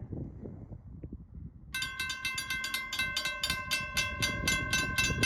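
A westbound Norfolk Southern manifest freight train approaches a highway crossing. After a quiet stretch of low rumble, a loud, rapid, pulsing ringing tone starts and keeps going over the rumbling train.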